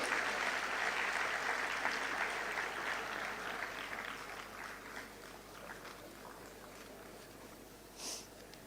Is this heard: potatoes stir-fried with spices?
no